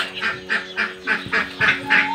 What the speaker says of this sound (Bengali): হাঁসগুলো এসে প্যাঁক প্যাঁক প্যাঁক প্যাঁক করে কী করছে